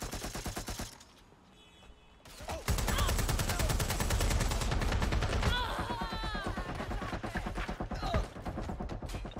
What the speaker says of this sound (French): il vient de flinguer le civil devant moi